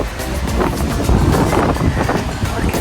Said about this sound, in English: A little windy this afternoon.